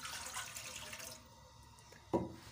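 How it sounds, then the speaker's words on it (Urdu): Water poured into a cooking pot set on a stove for chicken karahi, a short, close splashing stream that stops after about a second, followed by a single clank near the end. "اب ہم اس میں ڈالیں گے تقریباً 1 کپ پانی"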